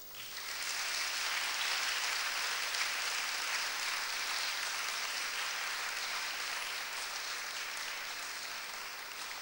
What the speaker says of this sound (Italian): vi chiedo davvero sentitamente di fare un applauso